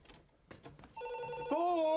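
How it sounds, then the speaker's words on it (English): A telephone starts ringing with a sustained electronic tone that rises in pitch after a moment, following a few faint knocks and rustles in a quiet room. "Phone! Somebody answer the phone!"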